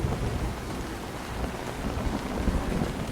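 Steady rain falls throughout a scene from the series Dark, a dense, even wash of drops with low rumbling underneath, like rain on surfaces during a storm, with no voices.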